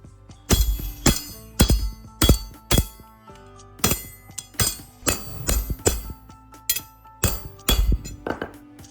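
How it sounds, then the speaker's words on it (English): A hammer strikes a flat steel strip to flatten it, sharp ringing metallic blows in irregular bursts of two or three, loud and close, each leaving a brief clanging decay. "After hammering it flat, I mark a section that's long enough and then cut it out."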